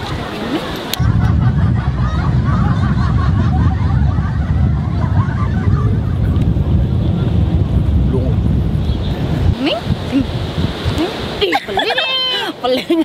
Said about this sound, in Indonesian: Ombaknya gede-gede.